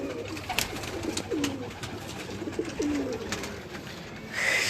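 Pet breeder pigeons cooing in soft, repeated rolling calls, several birds at moderate distance over a steady background hum, with no talk.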